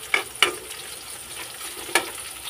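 Onions frying in a pan for a sardine and vegetable sauté, with a quiet, steady sizzle broken by three sharp scraping strokes of a utensil stirring them.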